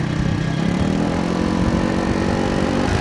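An XDV scooter being ridden on a road: a steady, close motor drone with a continuous buzzing hum that holds even throughout, no talk over it.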